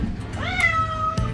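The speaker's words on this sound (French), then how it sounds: "Il va miauler" A cat meows once, a clear rising then falling cry at close range, with soft rustling and low room noise around it.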